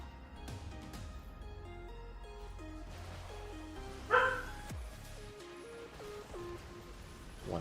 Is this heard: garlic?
no